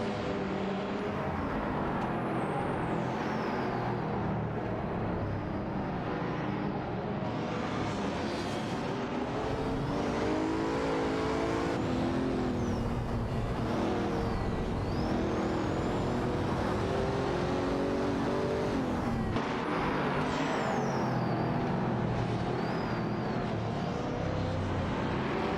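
Race car engines from a racing video game, including a Ferrari F8 Tributo and a Noble M600, drone and whine steadily, with rising and falling revs that run continuously at full level.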